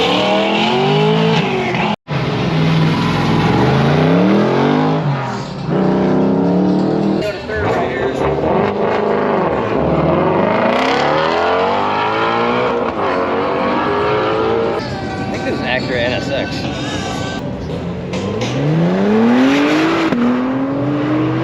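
A 1969 Pontiac GTO runs an autocross course with a loud, close V8 that revs and climbs through gears in repeated sweeping rises and falls, tires squealing through corners, and voices talking over it.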